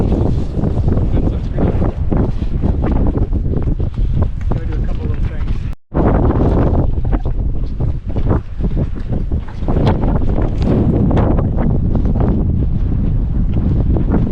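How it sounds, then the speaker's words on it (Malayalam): Strong, dusty wind roars and buffets against the microphone almost continuously on Aconcagua, with a brief lull, while a voice speaks faintly beneath the gusts. "ഒരു രക്ഷയില്ലാത്ത കാറ്റാണ് വരുന്നത്, പൊടിക്കാറ്റ്."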